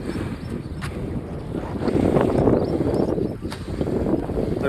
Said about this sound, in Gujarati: પવન એ મસ્ત આવે છે.